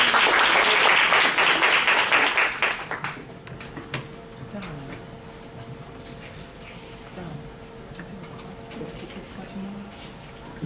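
An audience at a fundraising event claps in a dense burst for about three seconds, then the applause drops away into quieter room murmur and scattered movement.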